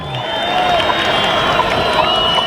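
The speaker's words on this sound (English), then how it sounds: "Wolverine players trying to urge their crowd to make some noise." Crowd at a high school football game between the North Forsyth Raiders and the West Forsyth Wolverines, a loud, sustained roar of cheering and shouting from the stands with whistle-like whoops over it.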